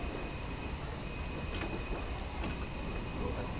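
Braking on a British steam locomotive in a train simulator game gives a steady low rumble of rolling stock with a faint high whine and a few soft clicks, quiet and continuous.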